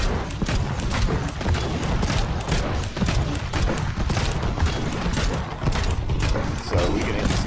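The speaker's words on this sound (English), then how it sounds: "space bar is our main cannons" Rapid cannon fire from a remote-controlled attack drone built in the Trailmakers video game, a dense, continuous barrage of loud thumping shots and mechanical clatter lasting throughout.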